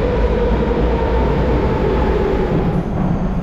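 A metro train rides through Athens on a hot day, with a loud, steady rumble and hiss of wheels on rails filling the carriage without a break.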